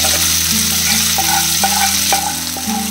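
Marinated chicken goes into a pan of softened shallots for Kerala-style chicken perattu, setting off a loud, steady frying sizzle with a few stirring scrapes and clatters over about three seconds, no voices.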